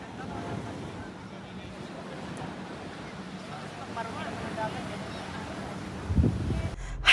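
Sea waves and wind on a beach, a steady broadband wash of surf and gusty microphone wind, with a louder bump near the end and faint voices in the background.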